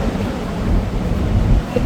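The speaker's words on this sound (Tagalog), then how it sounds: "Ang lakas ng hangin eh." Strong wind buffets the microphone in a steady low roar, with gusts swelling throughout and no voices.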